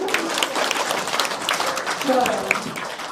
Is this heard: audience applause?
yes